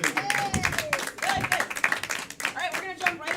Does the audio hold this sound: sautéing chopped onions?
no